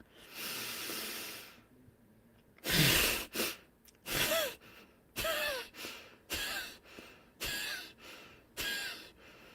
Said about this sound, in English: you're going to exhale through your nose hard again. And going to do this for 5 breaths